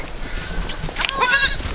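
A goat bleats nearby in a short wavering cry, with faint background noise and no talk over it.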